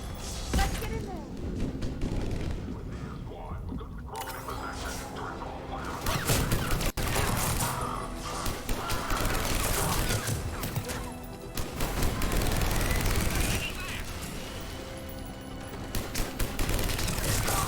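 Gunfire crackles through a fight at a checkpoint in Mass Effect 3, with Cerberus troops shooting. Dense, ongoing volleys and thuds run steadily throughout, close and loud, with voices talking over the battle.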